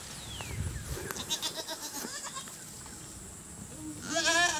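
Goats on a farm bleat several times while feeding on storm-downed tree limbs, with rustling and shuffling nearby and a louder, wavering bleat close up at the end.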